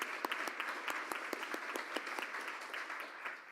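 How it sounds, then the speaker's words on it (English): An audience at a Rotary Club of Tulsa meeting claps steadily, a dense patter of hands held at moderate level throughout. "Let's give her a round of applause."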